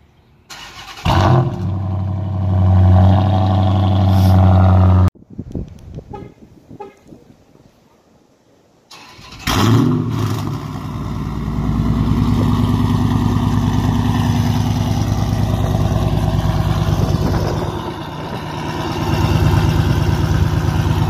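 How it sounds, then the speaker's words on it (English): A Dodge Challenger R/T with long tube headers, run late at night: an engine cranks and fires into a loud burbling idle, then cuts off, goes quiet for a few seconds, restarts with a bark and settles into a loud, steady rumbling idle. "My headers are installed, and this is just a quick late night run for y'all hearing it."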